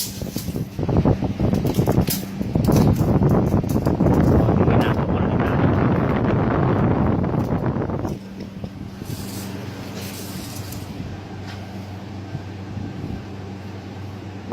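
A homemade 65-watt evaporative air cooler fan runs at its top setting, a loud, steady broadband rush of blowing air that holds for about eight seconds, then drops to a quieter hum with a low tonal drone.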